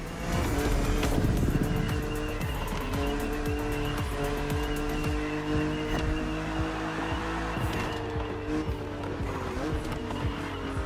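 A BMW Z roadster races against an aggressive opponent in The Crew Motorfest, its engine droning loudly and steadily with shifting pitch, tire squeal and skidding marking the cornering throughout.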